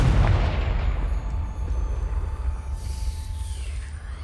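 In the Hogwarts Legacy video game, the Confringo blasting spell goes off as a heavy explosion with a deep, rumbling boom that rolls on and slowly fades, with no voices.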